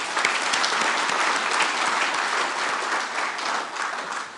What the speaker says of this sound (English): let us all give them a warm round of applause for their remarkable achievement